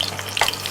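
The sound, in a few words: potatoes being stirred in hot oil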